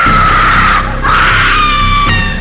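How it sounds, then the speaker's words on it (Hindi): A girl's sustained high scream, used as a sound effect in a narrated crime story, loud and close, with two long wailing cries and a short break between them. "उसे वनराज के घर से एक लड़की के चीखने की आवाज आई"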